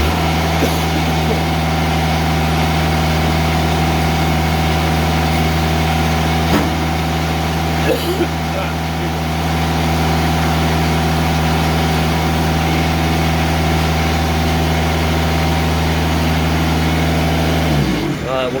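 A sawmill engine runs at a steady, loud drone while a log is turned over to its 3.5-inch side, with a brief clunk partway through and a rise in pitch near the end.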